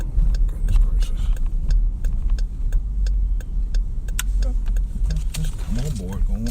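A car drives slowly with a steady low engine rumble and road noise, with sharp clicks and knocks throughout and a voice at the end.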